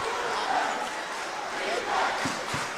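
A high school basketball crowd cheers after a slam dunk in a Male vs Eastern game, a steady, roaring wash of noise that swells slightly twice, with voices mixed into the din.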